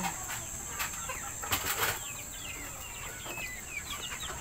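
Pet bantam chickens cluck and chirp in a backyard at morning feeding time, with a short burst of wing flapping partway through over a steady background hum.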